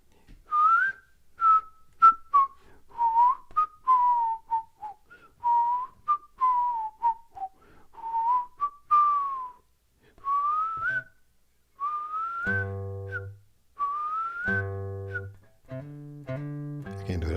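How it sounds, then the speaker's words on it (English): Someone whistles a bright, wavering melody alone, phrase after phrase, and a few strummed guitar-like notes come in near the end. "y'all need a tutorial on the whistling part?"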